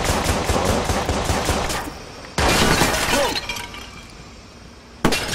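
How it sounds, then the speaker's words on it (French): Bursts of rapid gunfire in the video game Watch Dogs crackle loudly with sharp impacts and debris, pausing briefly before another burst cuts in at the end. "Attention, des coups de feu!"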